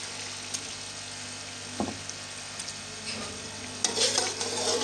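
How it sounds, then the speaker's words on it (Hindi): Chicken with spices for biryani being fried in a pot: a quiet, steady sizzle with occasional clinks of a utensil, the frying growing louder and brighter toward the end. "अब हम इसमें चिकन डाल देंगे।"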